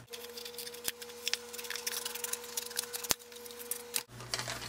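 Snips cutting through a paper cup with crisp crinkling and a few sharp clicks of the blades closing, close by and fairly quiet.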